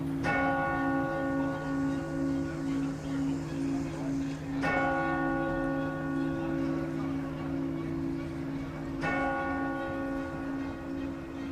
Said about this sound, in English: They were subsequently copied for Big Ben at Westminster and are now called Westminster chimes.